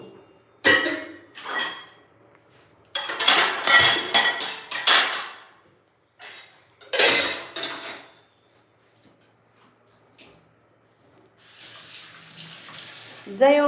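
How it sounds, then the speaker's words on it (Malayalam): Dishes and pots are washed at a kitchen sink, with several separate bursts of running tap water and clattering vessels between quiet pauses, near and fairly loud. "പാത്രം കഴുകി വെച്ചിട്ട് കിടക്കുന്നു."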